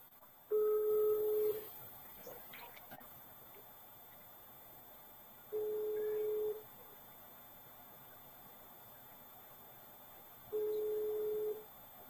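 A telephone call rings out: three identical steady electronic tones, each about a second long and spaced roughly five seconds apart, sound over a quiet room.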